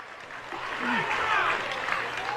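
A wrestling crowd at an UPW Uprising show roars and cheers on its feet, a steady dense wash of noise with a commentator's excited voice riding over it.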